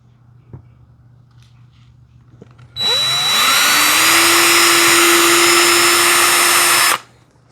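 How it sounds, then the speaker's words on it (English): A power drill bores a screw hole in an Old Town Ocean Kayak Malibu PDL hull, a loud steady whine running about four seconds alone after a couple of faint taps, then cutting off. "I'm gonna end up drilling one hole, put a screw in there."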